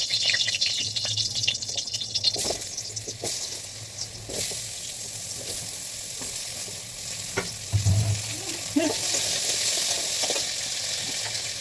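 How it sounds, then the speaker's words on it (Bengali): Potatoes fry in a pan with a continuous close sizzle, broken by occasional scraping stirs and clinks, the hiss swelling and easing slightly over time with no talking. "আলুটা এখন ভাজতে বসিয়ে দিয়েছি।"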